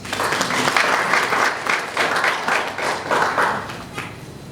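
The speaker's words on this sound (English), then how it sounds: "Give yourselves a big hand of applause." Delegates at a national education gathering give themselves a big hand, a loud, dense round of applause from many people, rippling in slight waves and easing off toward the end.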